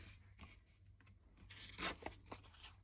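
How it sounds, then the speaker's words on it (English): Coffee-dyed paper ripped by hand, a short quiet tearing burst with a few softer crinkles around it, close and isolated in a faint room. "First I'm just going to rip these."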